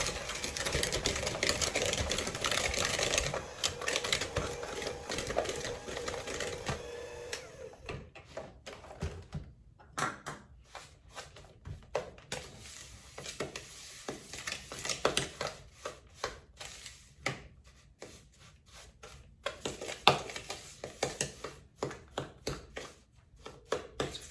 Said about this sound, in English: I've got the sugar and the shortening creamed together